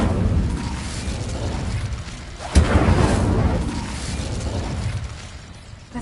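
An Incendio fire spell goes off as a dense, roaring burst of noise, with a sharp flare about midway that then rumbles on and slowly fades.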